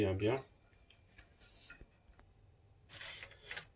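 Couscous semolina being stirred in a bowl, soft scraping and rubbing strokes in short bursts with quiet gaps between them.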